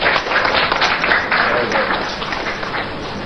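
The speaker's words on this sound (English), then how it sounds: "a round of applause for him" Audience applause at an NDC political press event in Ghana, a dense steady wash of clapping hands filling the room for several seconds, loud and continuous without letup.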